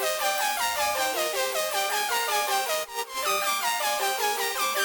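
A bright synth melody of stepping, slightly bending notes plays steadily throughout, with a brief dip near the middle; no voices.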